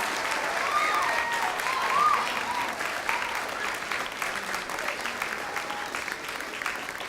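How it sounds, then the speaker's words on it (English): A large audience at an elementary school awards celebration claps steadily in sustained applause, a dense even patter throughout with faint whoops. "Let's give a huge round of applause to our 2019 Presidential Award winners"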